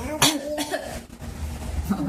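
A toddler fakes a cough, giving one sharp vocal burst near the start, followed by babbling and adult voices talking in the background.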